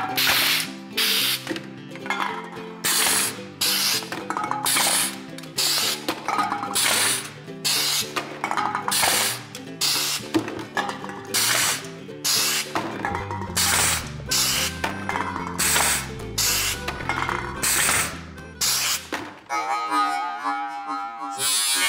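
A pneumatic can crusher flattens aluminum cans in quick succession, each stroke a loud hissing crunch in a steady rhythm of about ten bursts, ending with a rush of released air.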